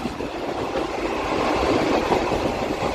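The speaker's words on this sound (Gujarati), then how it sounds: "આપણી ટ્રેનનું અરાઇવલ થવા જઈ રહ્યું છે પ્લેટફોર્મ નંબર 2 ઉપર, ભચાઉ રેલવે સ્ટેશન ઉપર" A WDG 4G diesel locomotive, number 49345 from Gandhidham loco shed, rolls into platform 2 at Bhachau railway station, its engine rumble and the train's steady running noise swelling slightly as it nears, with no talk.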